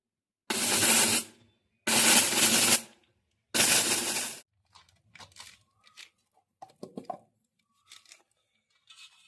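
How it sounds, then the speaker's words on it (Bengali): A mixer grinder jar grinding dried mango pieces into amchur powder, running in three loud, harsh bursts of about a second each, followed by quieter scattered taps and rattles of the jar. "মিক্সি জারে আমি নিয়ে নিচ্ছি এটাকে পাউডার করে নেবো"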